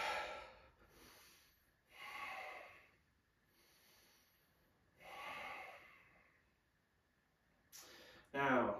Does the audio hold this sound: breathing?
yes